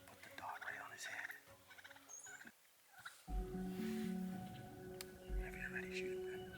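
Wild turkey gobbling while strutting with a hen during a spring hunt, loud close bursts over soft whispered talk, with a brief quiet gap midway.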